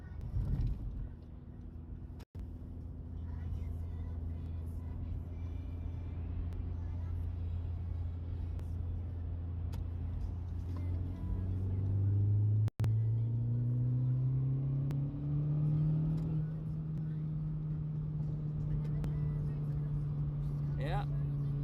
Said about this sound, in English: Acceleration on Civic Type R. Very good car and acceleration.